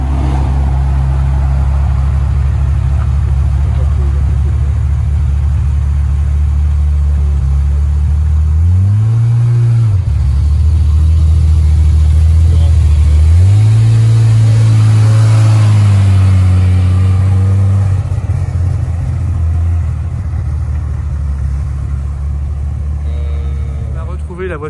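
A Moss Monaco car engine idles with a low, steady hum, then revs in two swelling bursts before settling again, heard up close while people talk.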